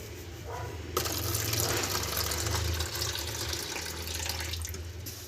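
Water from an old RO purifier poured into a glass: a steady trickling, splashing pour that starts abruptly and runs continuously for several seconds.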